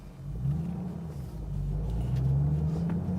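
A 2014 Shelby GT500 Mustang's engine rumbles deep and steady, growing slightly louder as the revs build for takeoff, with no talk over it.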